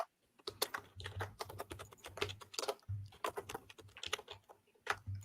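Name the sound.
typing on a computer keyboard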